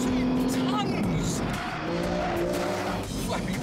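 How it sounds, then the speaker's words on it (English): A nearly two-ton super saloon with flappy-paddle gearbox is flung through corners, tyres squealing and skidding in a long steady smear with the engine droning close under it. "I can flick this around like a little tiny sports saloon"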